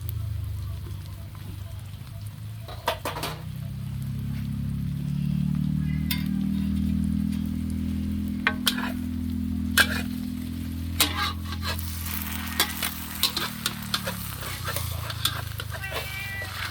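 A Thai omelette fries in a pan, giving a steady sizzle and low bubbling hiss, with scattered clinks and scraping from stirring, and occasional voices nearby.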